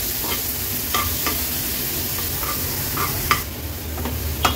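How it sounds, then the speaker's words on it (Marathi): Ground chutney paste is sautéed in oil on a low flame, making a steady, moderate sizzle with several sharp spoon taps and scrapes spaced a second or so apart, and no one speaking. "तेलावर हे वाटण आपल्याला परतून"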